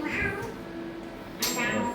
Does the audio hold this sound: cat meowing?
yes